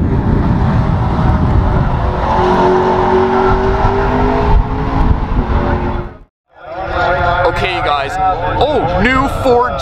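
A McLaren 650S sports car roars along a race track, its loud engine droning steadily with shifting pitch, then briefly cut off before resuming with revs and whine; a voice talks over it.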